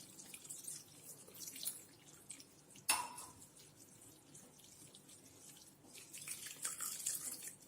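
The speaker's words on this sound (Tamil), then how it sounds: "தண்ணி ஊற்றி பச்சை தண்ணி ஊற்றி" Water pours and splashes in a kitchen sink as fresh chhena curd for rasagulla is rinsed, with a sharp clink midway and scattered dripping and trickling, fairly faint throughout.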